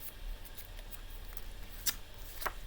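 Scissors snip through card pieces for a handmade thank-you card, giving two sharp, close snips over a quiet background hum, with no talk.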